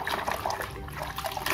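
Water splashes and trickles while toy trucks are rinsed, a close, busy, gurgling flow with small bursts and drips running throughout.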